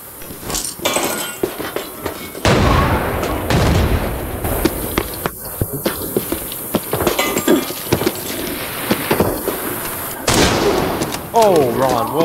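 Shots from an SJ16 .338 Lapua sniper rifle in Arena Breakout Infinite, sharp loud cracks scattered among other gunfire and clinks, with excited voices talking over the noisy firefight.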